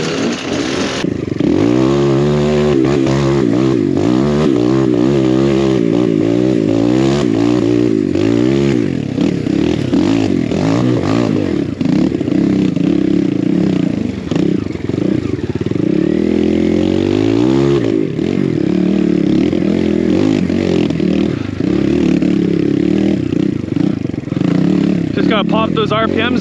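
Two-stroke enduro motorcycle engine revving hard and continuously up close, pitch rising and falling with throttle blips, loud throughout with some clatter.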